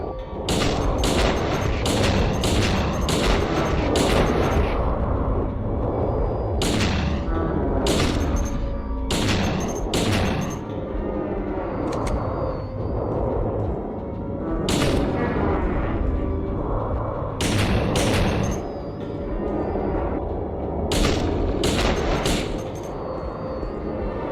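Repeated gunshots from Silent Hill 2 played with an over-the-shoulder mod, loud sharp reports coming in quick bursts and clusters with short pauses and booming impacts, and no talking.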